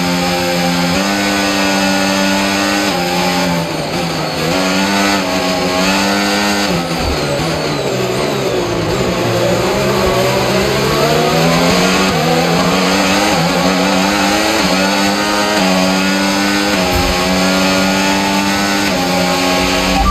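Formula One race car engine from the game F1 25 at the Las Vegas Grand Prix, loud and continuous high revving with repeated gear shifts, pitch sweeping down and climbing again, no talk.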